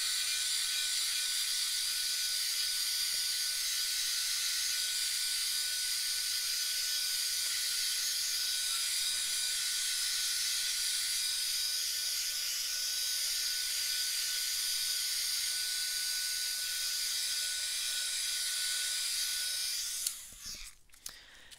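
A heat dryer blows over a mixed-media art collage, a steady loud close-up hiss and whir running unbroken for about twenty seconds before clicking off.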